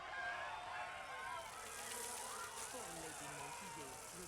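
Bees buzz in Dragon Age: Inquisition, a dense steady drone filling the scene with shifting wavering tones, heard alongside the game's ambient sound.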